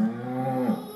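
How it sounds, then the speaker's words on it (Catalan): A single cow moo, close and clear, with a steady low tone lasting just under a second before cutting off. "Una vaca, escolteu"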